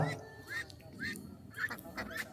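Ducks honking and quacking at a village poultry market in Chandapura, several calls in short bursts over a low market murmur.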